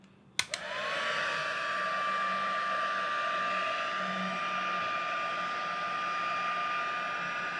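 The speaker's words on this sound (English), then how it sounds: "I've got my little embossing heat gun here, and this might get a little bit noisy" A handheld embossing heat gun switches on with a click and blows a steady, loud, hissing whir while drying a card design, running continuously and close by with no talking.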